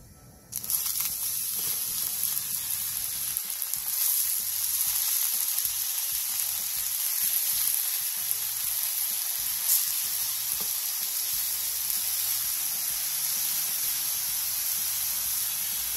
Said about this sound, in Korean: 팬에 참기름 한 스푼을 두른 뒤 팽이버섯을 올려주세요